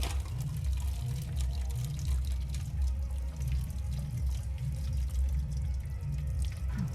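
Hot distilled water from the cooling system of a Bajaj Dominar 400 motorcycle drains out of the open drain bolt in a steady, soft trickling splash, with a low background hum throughout.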